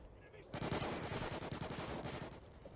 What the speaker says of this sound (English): Shots being exchanged right now.